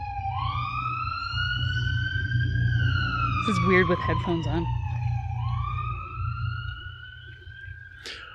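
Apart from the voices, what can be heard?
emergency vehicle siren passing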